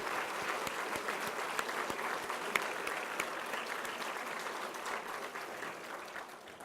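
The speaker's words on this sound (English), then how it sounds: "Please help me applaud our new CIO, Kelly Duran, in her absence." An audience at a college's State of the College address claps for the new CIO. The applause is moderate and steady, with scattered sharp claps, and it tapers off slightly near the end.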